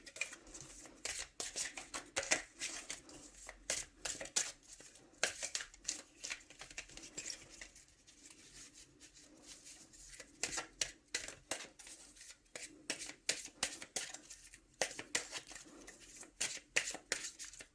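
A deck of tarot cards shuffled and cut: rapid bursts of crisp card riffles and flicks in uneven clusters, close and fairly quiet, with no talk.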